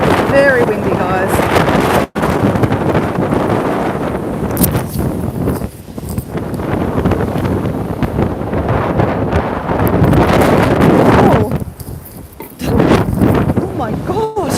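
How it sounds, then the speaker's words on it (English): Strong wind roars and buffets the microphone almost continuously, with brief lulls and a voice occasionally audible beneath the gusts. "It is very windy, guys."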